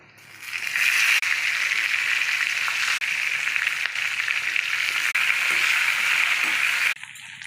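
Mustard seeds, urad dal and cumin sizzle steadily in hot oil for a Tamil omavalli chutney, a loud continuous frying hiss with faint popping that starts up after a moment and holds unbroken, with no talking.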